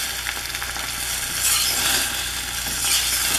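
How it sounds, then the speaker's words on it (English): A fork scrapes lightly through setting eggs in a seasoned skillet, making close, continuous rasping scrapes over a soft frying sizzle. "I am just barely scraping this with this fork."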